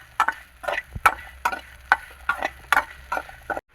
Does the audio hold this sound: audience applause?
no